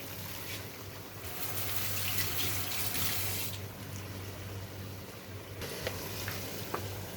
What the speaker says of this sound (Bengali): আমি এখন এগুলো ভেজে নিচ্ছি ভেজে নিব আগে মরিচটা ভেজে নিই